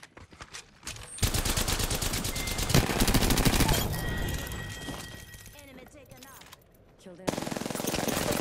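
Rapid automatic gunfire from a shooter video game crackles in sustained bursts, loud and close, with brief pauses before another volley, under a player's talk.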